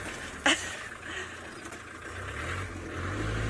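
A safari vehicle engine rumbles low and steady as it pulls in to park in the Maasai Mara, Kenya, a moderate idle-like drone that swells slightly toward the end, with a brief sharp click near the start.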